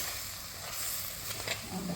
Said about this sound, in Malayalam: നമുക്ക് ഒന്ന് ഇളക്കാം.